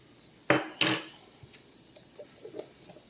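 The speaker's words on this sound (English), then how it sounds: "And stir that around." Garlic being stirred into softened onions in a pan: two sharp metallic clanks of a utensil against the pan, then faint scattered taps and a soft background sizzle.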